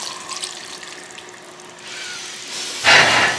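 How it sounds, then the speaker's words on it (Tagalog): Second-press coconut milk pours into a pot of sizzling chicken for ginataang manok, a steady hiss and frying crackle that swells into a loud, bright rush of liquid near the end. "we are going to add the second coconut milk, which is the second press of the coconut"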